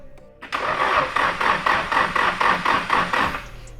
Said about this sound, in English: I guess we'll just freaking crank this thing and see what happens